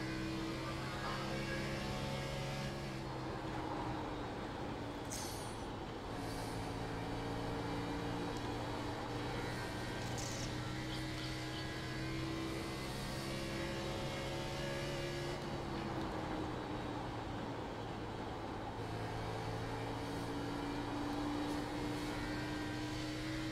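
An onboard race car engine in a racing video game at Dover Speedway drones steadily with no voices. Its pitch rises and dips as the throttle is fed in and eased off through the corners.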